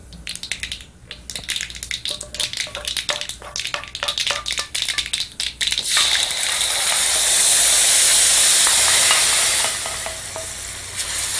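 Crackling spices stirred in a South Indian chaunk give way to a loud, hissing sizzle as syrup hits the hot pan, swelling and then slowly easing off.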